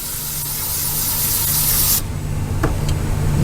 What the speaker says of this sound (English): what I like to do is go back with some brake clean on the